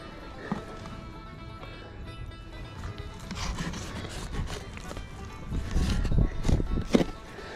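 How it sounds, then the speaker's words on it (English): A knife draws slowly across a steelhead or salmon during filleting, giving a soft, continuous rubbing and scraping that grows louder and rougher toward the end, close by with no talk. "running that knife right across there, nice and easy"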